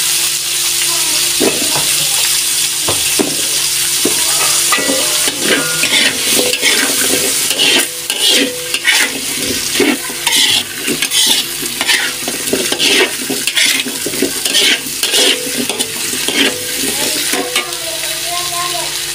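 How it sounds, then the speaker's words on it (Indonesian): Eggplant sautés in a pan with a continuous close sizzle and frequent clacks and scrapes of stirring throughout, with a trickle of water and a faint voice briefly underneath. "Jadi ini kita tumis dulu teongnya ya"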